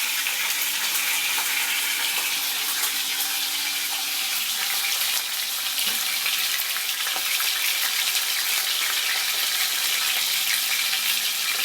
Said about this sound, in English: It's sizzling, as you can see.